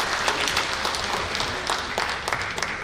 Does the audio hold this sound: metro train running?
no